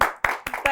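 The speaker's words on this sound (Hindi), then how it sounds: "तालियां।" Four quick, close hand claps burst out in rapid succession from a studio audience during an interview show, loud and clear with no talking.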